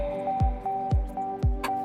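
Fish pieces are turned through a thick masala marinade for an Apollo fish fry, giving three or four wet, squishy strokes at an even pace, close and fairly loud, with no talk.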